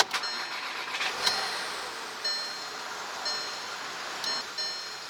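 An old car engine idles roughly with ignition misfires despite new spark plugs, a steady close rumble broken by irregular stumbles and faint ticks, with no talking.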